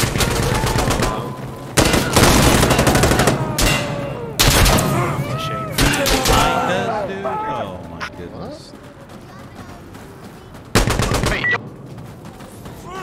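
Heavy, booming shots from a shotgun in Insurgency: Sandstorm, with a few big blasts spaced several seconds apart amid rapid gunfire and lingering echo, while players talk over the action.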